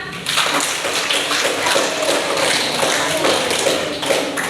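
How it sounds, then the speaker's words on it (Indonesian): A class of seventh-grade junior high students claps hands together in a classroom, producing a dense, steady patter of applause that lasts throughout at a fairly loud level. "Oke, kita tepuk tangan."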